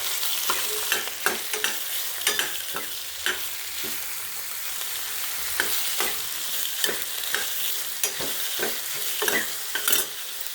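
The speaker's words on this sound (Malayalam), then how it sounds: "വഴറ്റുക." Onions sautéing in a pan for a cooker egg curry, a steady loud sizzle with repeated spoon stirring and scraping strokes throughout, close up and without talk.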